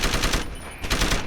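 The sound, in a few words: machine gun firing in the video game Deus Ex: Human Revolution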